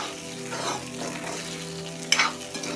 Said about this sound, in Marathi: सर्व शाबू घालायचा आणि व्यवस्थित हलवून घ्यायचं